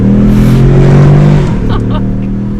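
A 2021 Ford Mustang EcoBoost engine blipping its revs during paddle-shifted downshifts, a loud close droning engine note that rises and then drops as the gear changes.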